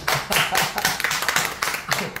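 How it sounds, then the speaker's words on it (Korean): A small audience at a social dance academy claps in uneven bursts, several people's hands slapping close by in a loose, pulsing rhythm with brief dips between surges. "박수"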